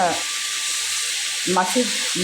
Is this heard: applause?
no